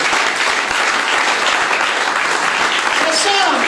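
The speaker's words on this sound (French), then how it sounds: "Acclamons d'abord le Seigneur pour cette église" A church congregation claps together in sustained applause, dense and loud throughout, with voices mixed into the crowd noise.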